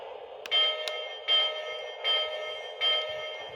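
A Disney Frozen 2 LionChief toy train bell clangs in a steady repeating pattern, five electronic ding pulses evenly spaced, close and clear.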